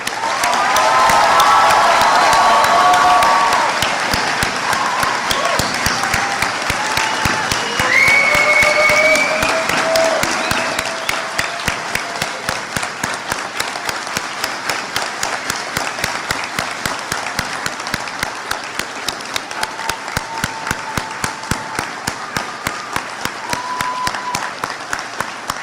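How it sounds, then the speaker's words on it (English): A commencement crowd at the University of Maine at Machias applauds its graduates, loud applause with some cheering at first, then thinning into steadier, sparser clapping that continues to the end. "Let's clap one more time for our graduates."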